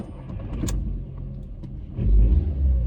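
A car engine idles as a low, steady hum, then swells into a louder, rumbling surge near the end, close and clear with no one talking.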